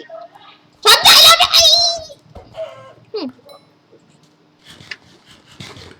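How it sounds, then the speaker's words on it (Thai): Chickens in the Minecraft video game let out a loud burst of clucking and squawking, followed by quieter game sounds and a voice speaking briefly in the background. "อย่างน้อยเราก็ได้ไก่มานะครับ"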